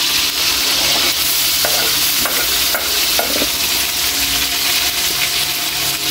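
Garlic and onion sizzle steadily in a hot pan while a utensil stirs and scrapes through them, loud and continuous, with no voices.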